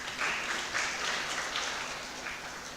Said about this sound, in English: Please give a huge round of applause to all the prize winners.